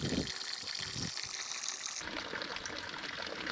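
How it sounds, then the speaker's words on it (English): Water from a 1-1/4 inch ram pump runs steadily into a quart jug, a continuous gushing splash that shifts in tone partway through as the jug fills. "So a quart container took 30 seconds to fill up."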